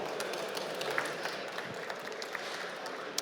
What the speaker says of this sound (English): Round of applause for Ursula,